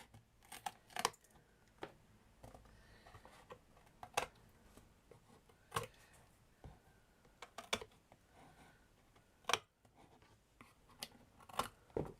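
Curved scissors snipping paper for a miniature science lab diorama, a series of quiet, crisp, irregular cuts and rustles spaced a second or two apart, heard close and without talk.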